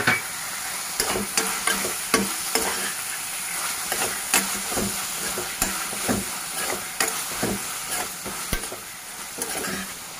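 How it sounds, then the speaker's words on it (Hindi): Tomato and onion masala for paneer kofta fries in a pan, a constant loud sizzle broken by repeated sharp scrapes and clinks of a spoon stirring at an uneven rhythm, with no speech. "मां सिर्फ़ु हिकिड़ो मिंट इनखे फ्राई कंदसि"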